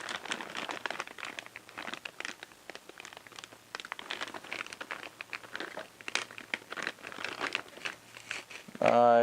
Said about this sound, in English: Oh, it's starting to rip.